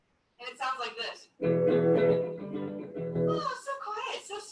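A clean electric guitar with the fuzz pedal switched off rings out in a sustained, gentle chord, bracketed by a brief spoken voice before and after the note.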